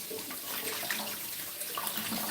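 Water runs steadily from a kitchen tap as hands are washed, a close, continuous splashing hiss with no talk over it.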